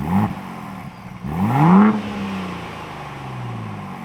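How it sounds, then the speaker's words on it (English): Ford Bronco Raptor active exhaust in normal mode: two short revs with rising and falling engine tones, the second stronger, then a steady idle rumble, close and fairly loud with no talking. "Normal sounds like this."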